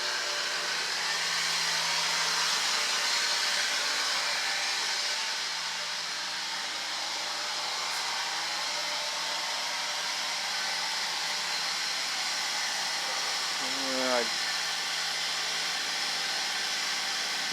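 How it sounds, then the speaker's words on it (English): A used, noticeably loud air suspension compressor on a BMW X5 runs continuously with a steady, airy, hissing drone, close and unbroken for the whole stretch. "Compressor's running."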